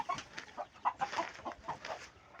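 Native Thai chickens clucking repeatedly in short, irregular bursts, fairly close, with a few higher squawks mixed in and no talking.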